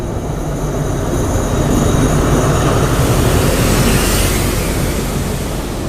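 Loud, continuous rumble and rattle of a Bangkok commuter train in motion, heard from close by with a faint high whine and no voices.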